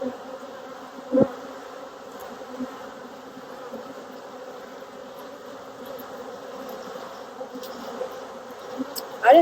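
Honey bees hum steadily around hives in Tennessee in autumn, a soft continuous buzzing swarm with a couple of brief closer fly-bys and small knocks.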